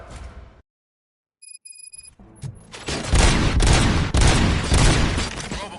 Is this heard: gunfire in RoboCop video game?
yes